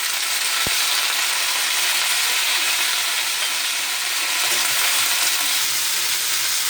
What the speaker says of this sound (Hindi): टमाटर हल्के हल्के फ्राई होने लगे